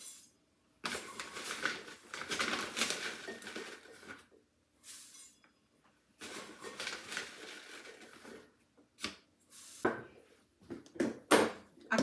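Rolled oats are poured and scraped into a mixing bowl, giving several loud bursts of rattling, pattering grains separated by brief pauses. The sounds are close up, and a few scoops and clinks come at the end.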